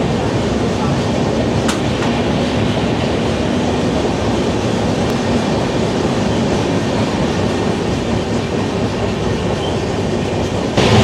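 Tamralipta Express train running on rails between Howrah and Digha, a loud continuous rumble with rattling and faint rhythmic clatter, heard from inside the moving coach.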